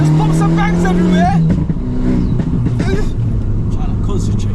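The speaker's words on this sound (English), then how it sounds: "and then there's pops and bangs everywhere." A tuned 2009 Abarth 500 (Stage 1+) on a race track revs hard and loud, its engine droning close by through gear changes, while people talk over it. Distinct exhaust pops are hard to pick out.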